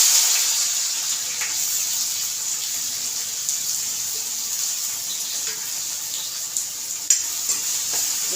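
Onions frying in a pan for pav bhaji, a steady soft sizzle with occasional faint scrapes of stirring, continuous and close, with no talking.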